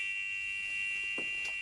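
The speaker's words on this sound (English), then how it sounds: "a buzzer went off, telling him that someone was entering the church" A church entry buzzer sounds as a steady, piercing electronic tone held throughout, fairly faint, with a couple of small knocks near the end.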